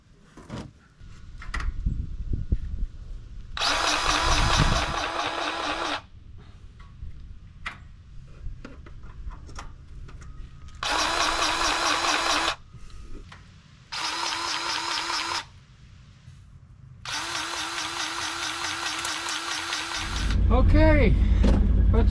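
A Polaris Ranger XP900 utility vehicle cranks several times in repeated bursts of whirring starter with pauses between, then the engine catches and runs loudly up close at the end, with someone talking in between.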